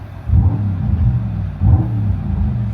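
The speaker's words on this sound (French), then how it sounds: "On pourrait croire qu'il y a vraiment un moteur dedans, alors que c'est une full électrique." Simulated V8 engine sound from an all-electric Mercedes-AMG GT 63 4-Door, heard from outside the car as a deep, rumbling engine-like drone with two swelling rev pulses, loud and steady with no talk.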